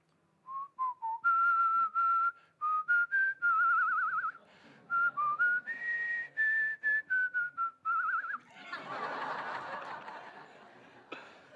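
A person whistles a hymn melody alone, a long run of clear sustained and stepping notes with short breaks, close and fairly loud, ending in a burst of breathy hissing noise.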